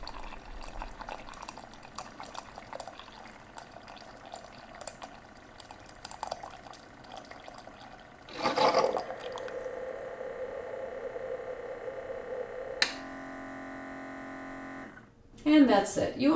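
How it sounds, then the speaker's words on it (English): A Keurig K55 coffee maker brewing a 6-ounce cup of hot water gives a low hum and gurgle, then a louder steady pumping drone and sputtering near the end, with a voice talking over the start. "this is how you would brew hot water"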